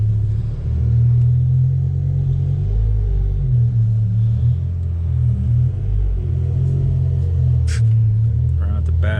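A BMW E60 M5 accelerating hard in first gear, a deep sustained engine rumble that stays loud and steady throughout, with a faint chirp near the end.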